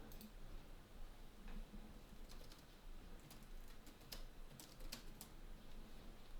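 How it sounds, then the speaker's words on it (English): Someone types on a computer keyboard at a Premodern Magic card game showdown, a quiet run of light key clicks with some louder taps over steady room noise. "I'm typing up my GG's congrats on the win message"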